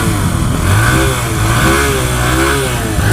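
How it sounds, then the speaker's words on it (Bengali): A Haojue DR160 motorcycle with about 10,000 km on it idles close by. Its loud, steady exhaust rumble wavers slightly in pitch with light revs over a few seconds, with no talk. "বাইকের এক্সজস্ট সাউন্ডটি কেমন সেটা আপনাদেরকে দেখাই।"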